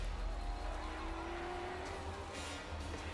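A car in a driving video game revs and grips the road, its engine tone rising in a smooth sweep over a low rumble. Tires hiss faintly, and the whole sound stays quiet and close.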